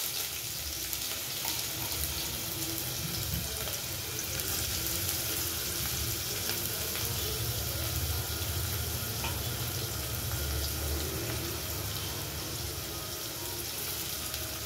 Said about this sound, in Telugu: ఇప్పుడు కళాయిలో నూనె పోసుకొని ఈ ఉల్లిపాయలు వేయించాలి.